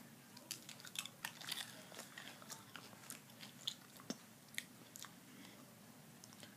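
Crunchy colorful candies being chewed and bitten up close, a quiet run of small crisp crunches and clicks scattered through the clip with no talking.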